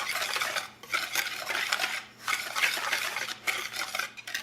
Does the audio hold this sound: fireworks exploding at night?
no